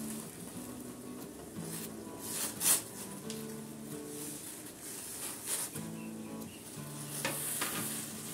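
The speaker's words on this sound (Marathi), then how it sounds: "इथं पाण्याला छान अशी उकळी आलेली आहे। आता आपल्याला या शेवया टाकायच्यात पाण्यामध्ये।" Vermicelli (shevaya) cooks in a pot of rolling boiling water for a sweet rice-style dish. Steady bubbling and hissing come close up, with a few sharp utensil clinks and scrapes from stirring.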